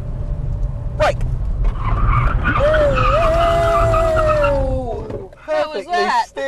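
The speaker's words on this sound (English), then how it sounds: "Coming up to 50 mile an hour, 60 mile an hour, 70. Hold it right there and brake." A Ford Mondeo ST24 brakes hard from 70 mph, its tires skidding in a loud, sustained squeal lasting several seconds. The squeal fades as the car stops, and a voice talks briefly at the end.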